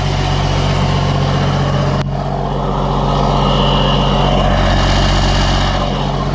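A truck engine idles steadily through a homemade tin gutter-pipe smoke stack, a low, muffled, continuous rumble that stays loud and close throughout, with a brief sharp click near the start.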